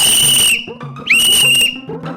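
A whistle is blown in loud, sustained shrill blasts, one long tone, a brief pause, then a rising second blast, with a shorter toot at the end, close and dominant over faint background noise.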